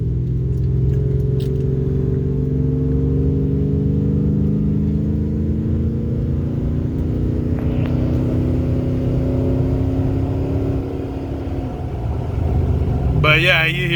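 A truck with aftermarket parts pulls onto a slick, cold highway, its loud engine droning steadily and rising in pitch as it accelerates, with a brief rattle and jingle near the end.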